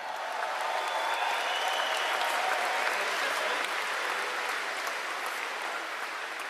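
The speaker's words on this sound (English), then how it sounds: "Let's give them a round of applause as well." Crowd at a Pierre Poilievre political rally in Oshawa claps in a broad, sustained burst of applause, dense and even from start to finish, fading slightly near the end.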